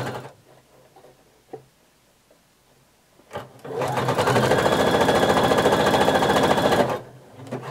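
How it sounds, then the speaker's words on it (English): A sewing machine runs a very wide zigzag stitch along elastic aligned with fabric edges for a swimsuit leg opening, a few faint taps first, then a steady loud mechanical whir for about three seconds before stopping. "we're just sewing a very wide zigzag stitch"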